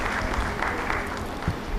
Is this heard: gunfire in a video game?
no